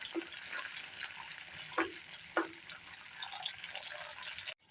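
Chopped garlic and ginger fry gently in oil in a pan for lemon pickle, giving a steady hissing sizzle with a few soft clinks of a spoon, then stopping abruptly.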